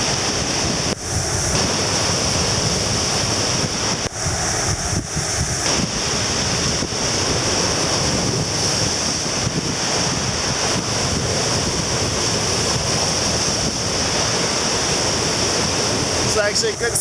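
Strong wind buffets the microphone on a beach at James Island while ocean waves wash in steadily underneath, a loud constant roar with occasional gusty thumps.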